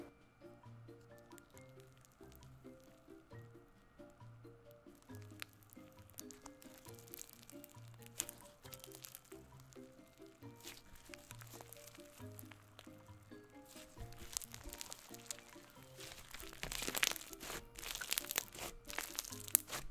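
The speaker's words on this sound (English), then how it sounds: "Time to squish." Homemade slime squished by hand, close and quiet, with wet crunchy squelches and sticky popping crackles in an irregular rhythm that grow denser and louder toward the end over faint background music.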